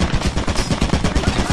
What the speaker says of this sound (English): Yeah, I think I found the turret she was talking about.